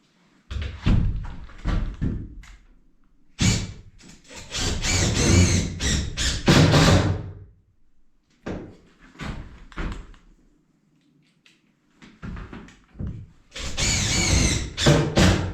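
A temporary metal-and-foam cabin door on an off-grid cabin build is opened and closed several times, producing repeated clattering slams and scraping squeaks in bursts separated by quiet gaps, close and loud.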